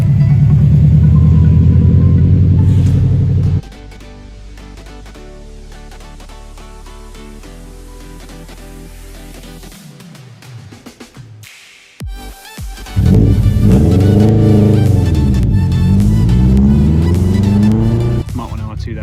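A Subaru Mark 1 R2 race car runs at the Castle Combe circuit, a loud engine roar that drops to a steady lower drone, breaks off briefly, then returns with rising and falling revs as it passes close.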